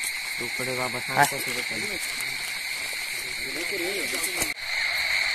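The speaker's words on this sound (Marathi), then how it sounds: "तुम्ही माणक्यांचो आणि त्या रातकिड्यांचो आवाज तुम्ही ऐका शकता" Crickets chirp at night during the first rain of the season, a steady high shrill trill running throughout, while someone speaks briefly over it early on.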